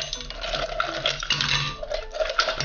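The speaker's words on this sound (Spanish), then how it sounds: "vamos a agregar a la licuadora nuestro hielo" Ice cubes clatter and rattle into a blender jar for making lulada, a burst of small knocks and clinks, close and fairly quiet.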